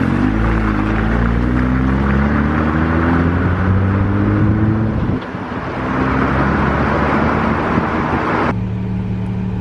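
A Jeep JL Wrangler fitted with a Flo-Pro performance exhaust cruises in 4th gear at about 45, heard from inside as a steady low engine hum and road rumble with no drone, holding level throughout.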